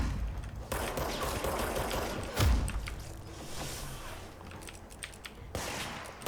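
Bursts of enemy gunfire in the action video game Control, rattling in dense volleys that come and go over several seconds, with a heavier blast partway through and no talk.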